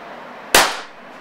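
A single sharp gas airsoft gun shot fired over a chronograph on a range, a loud crack with a short decaying tail, alone in quiet background.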